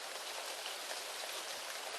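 Heavy rain pours down steadily, a constant hiss of drops hitting surfaces, with no voices.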